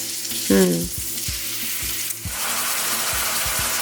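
Garlic and onion fry in a pan as a bolognese base, a constant close sizzle that swells louder after a brief stir, with a short faint vocal sound near the start and regular soft knocks beneath.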